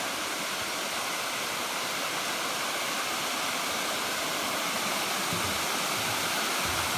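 Waterfall at Fall Creek Falls roars as a dense, constant rush of falling water, loud and steady throughout with no other sounds on top.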